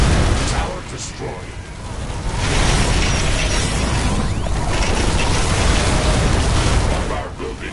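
A tower blowing up in The Riftbreaker: a sustained, loud rumbling blast that swells and holds across the clip, dense and crashing, with no voices over it.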